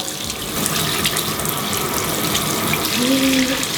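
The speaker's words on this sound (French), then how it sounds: "Et on va rincer." Water runs steadily from a tap while dyed hair is rinsed out, a close, continuous gushing splash with a brief squeaky tone near the end; no one speaks.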